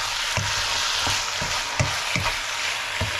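Turkey caldereta sizzles and fries loudly in a pan while a spoon scrapes and stirs it in regular strokes, close up, with no voices.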